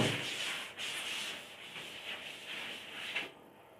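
A board eraser or cloth is rubbed across a classroom writing board during an electrostatics lecture, giving steady scratchy swishing strokes with brief pauses, close and moderately loud, with no talking.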